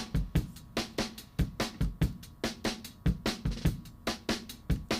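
A full drum kit plays a steady, driving groove with punchy kick and snare hits and bright cymbals, close and clear with no voices, recorded with three mics together, in a recreation of a song's drum sound.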